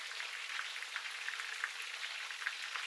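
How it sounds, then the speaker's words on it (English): Chicken pieces deep frying in oil at 190 degrees, a steady, fairly quiet crackling sizzle with faint scattered pops and no talk. "now we continue to fry those"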